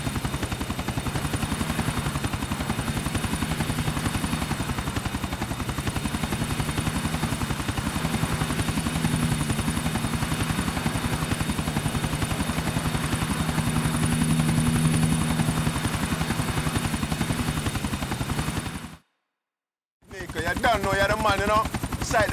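Helicopter in Grand Theft Auto IV, a loud, continuous rotor thrum with rhythmic chopping and engine whine throughout, briefly cutting out near the end before resuming, with voices occasionally talking over it.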